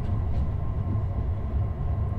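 A train rolling downhill on rails, a steady loud low rumble and rail roar with a faint constant whine above it, continuous and close throughout.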